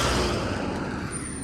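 A UP-registered truck pulls up and halts by a roadside, its engine rumbling steadily near at hand as the brakes hiss faintly in a continuous, broadband roar.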